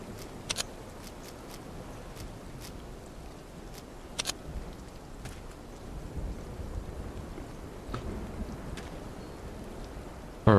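Steady rain falls in a survival expedition game, a dense even hiss with a few brief taps and crackles scattered through, continuous and fairly distant with no talk.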